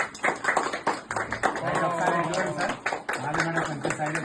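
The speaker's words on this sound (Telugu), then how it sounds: "ఒకసారి బిగే క్లాప్స్" An audience at a celebration claps in a lively but fairly light burst while voices talk and call out over and around the applause.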